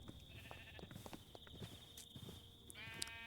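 Sheep bleat on a farm in a video game, a few short wavering calls at moderate distance over a soft ambient background, with no speech.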